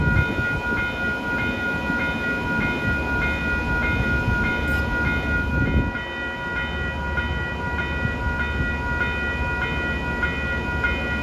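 A Metro-North push-pull commuter train rolls past near Iona Island and Manitou on the Hudson line, a steady loud rumble and rail roar with faint whining tones lasting over ten seconds, heard outdoors without talk.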